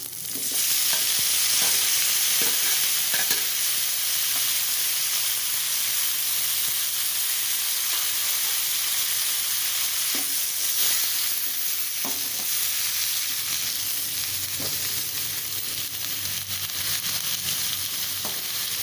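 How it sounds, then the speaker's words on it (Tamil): Broad beans and tomato sauté in an oil-filled pan, a steady close sizzle and frying hiss running throughout with occasional stirring scrapes, no voices. "இது கொஞ்சம் வதங்கட்டும்."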